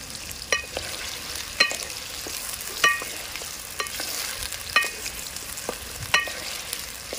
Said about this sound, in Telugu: దీనికి ఇట్లా ఆయిల్లో బాగా ఫ్రై కావాలి, ఎర్రగా కావాలి డీప్ ఫ్రై